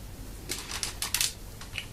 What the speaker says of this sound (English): Now what you do is you fold the tail up, fold the head up,